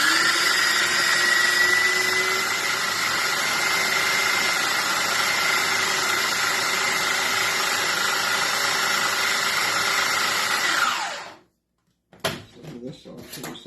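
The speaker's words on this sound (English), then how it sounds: "Now we're supposed to pulsate this until it is like a dip." A kitchen blender runs continuously, loud and close, whirring cottage cheese into a dip for about eleven seconds before cutting off abruptly, followed by a few light clatters.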